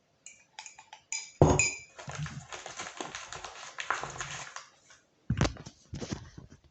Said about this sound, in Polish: Teraz jak to pomieszamy, wyjdzie takie coś.